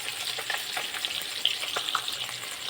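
Mrigal fish pieces frying in hot oil, a dense continuous sizzle with small crackling pops scattered throughout, close and fairly loud with no voices.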